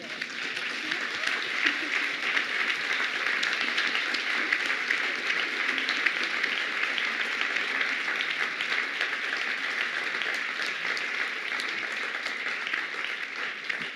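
Audience in a screening hall applauding steadily for about fourteen seconds, an even, sustained wash of clapping at moderate level.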